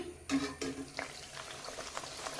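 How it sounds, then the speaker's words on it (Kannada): Wheat rava holige pieces fry in hot oil with a soft bubbling sizzle, broken early by a couple of close clatters of a utensil against the pan. "ಇದೇ ಥರ ಎಲ್ಲವನ್ನು ನಾನೀಗ ಫ್ರೈ ಮಾಡ್ತಾ ಹೋಗ್ತೇನೆ"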